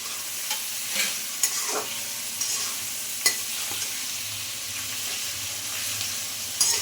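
Chopped tomatoes and onions frying in a pan, with a soft continuous sizzle under occasional scraping stirs and a few sharp clicks of the spoon against the pan.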